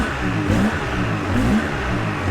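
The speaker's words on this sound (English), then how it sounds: "Some pretty good throttle response. I love the way these twin cylinders sound." The twin-cylinder engine of a Polaris Sportsman 700 ATV revs in short throttle blips over a rough, clattery idle, close and fairly loud, with quick rises and falls in pitch.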